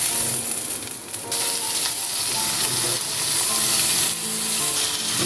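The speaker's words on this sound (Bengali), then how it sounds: "পেঁয়াজের সাথে মশলার পেস্টটা কিছুক্ষণ ভেজে নেওয়ার পর মাছগুলো দিয়ে দিচ্ছি।" Fish dropped into onion and spice paste frying in a pan for a Bombay duck curry, a loud steady sizzle running throughout with faint stirring scrapes.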